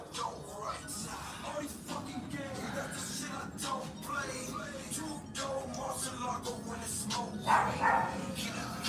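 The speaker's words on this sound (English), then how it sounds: "My dog is barking outside." Coco, a pet dog, barks repeatedly from outside the room, the sharp yaps sounding somewhat distant and mixed with faint shuffling and room noise.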